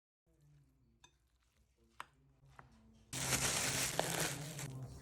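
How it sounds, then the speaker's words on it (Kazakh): A filling of minced chicken, onion, diced potato, seasoning and salt stirred in a bowl: a few sparse clicks and scrapes at first, then a sudden, louder continuous squelching, rustling mix, close and without talk. "жақсылап бәрін араластырамыз"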